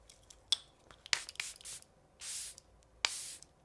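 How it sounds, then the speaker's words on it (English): Charlotte Tilbury makeup setting spray misted from its bottle, a few short sharp hissing bursts and some longer sprays spaced irregularly, close and fairly quiet. "Do not open your eyes right away after spraying this stuff."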